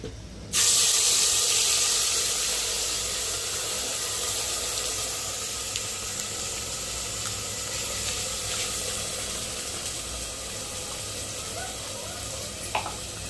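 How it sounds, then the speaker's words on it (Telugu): Masala frying in hot oil for mutton curry, a steady close sizzle and hiss that starts abruptly and carries on evenly with faint stirring clinks. "నూనె అయితే వేడెక్కింది కదా, మసాలా వేసుకున్నాము"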